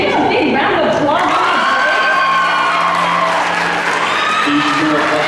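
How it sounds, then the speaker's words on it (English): An audience breaks into a big round of applause mixed with cheers and whoops, loud and sustained throughout, with voices calling out over the clapping. "Give them a big round of applause."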